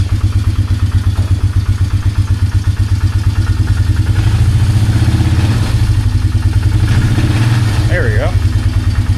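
A Polaris Magnum 330 ATV engine runs loudly and steadily while the quad backs up in reverse, with the engine note rising briefly partway through. A voice speaks near the end.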